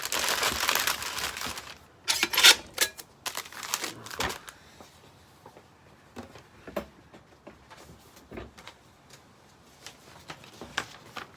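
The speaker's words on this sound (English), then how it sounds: "Tape it up good." Packing tape being wrapped around an envelope holding a knife for shipping: a loud burst of crinkling and tape tearing at the start, then scattered softer crackles and rustles.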